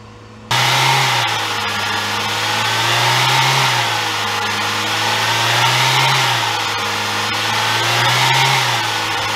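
A car engine is revved to heat the vents faster, a loud, sustained mid-pitched drone that starts abruptly and swells and eases in slow, regular waves.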